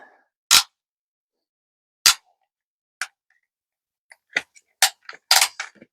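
The ratchet of an Atera Strada tow bar bike rack clicks in sharp separate snaps, first spaced about a second apart, then faster in a quick cluster at the end, close and clear against silence.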